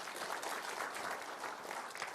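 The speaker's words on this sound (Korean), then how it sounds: "박수 한번 부탁드리겠습니다." Steady audience applause at a business seminar on the economic outlook, a dense even wash of clapping from a roomful of people lasting the whole stretch with no voices over it.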